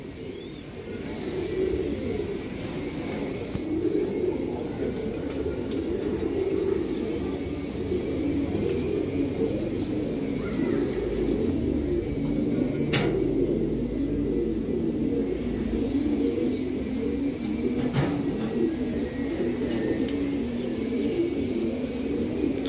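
Racing Giribaz pigeons in a loft coo in a low, continuous rolling murmur, several birds overlapping at moderate distance, with a few faint chirps and a brief sharp click or two, no one speaking.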